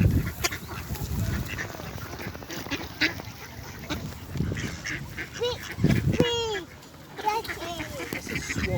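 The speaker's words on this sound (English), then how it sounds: "So much ducks." Ducks quack and honk repeatedly at the Maldon Promenade ponds in Maldon, with swans also present. The calls are close and scattered, with voices nearby and outdoor background noise.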